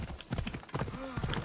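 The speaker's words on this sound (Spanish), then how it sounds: "El caballo." A horse in the game Assassin's Creed Odyssey trots with rhythmic hoof clip-clops, close and clear, followed by a short whinny near the middle, while a voice briefly talks over it.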